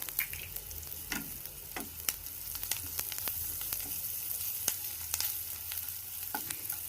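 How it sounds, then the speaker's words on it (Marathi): Turmeric sautéing in a pan with poha ingredients, a soft continuous sizzle broken by sharp spatula taps and scrapes, fairly quiet and with no talking. "असं परतायचं आणि त्याच्यामध्ये टाकायची थोडीशी हळद."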